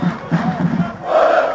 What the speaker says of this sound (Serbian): Banja Lučani imaju veliku podršku svojih navijača, doputovali su lešinari iz Banja Luke.